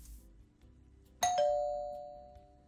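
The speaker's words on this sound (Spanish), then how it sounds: "A ver si le toco el timbre al caballero este." Electronic doorbell in the horror video game Elevator Zero rings once, a sharp bright chime that then sustains a long, slowly fading tone over a quiet low background hum.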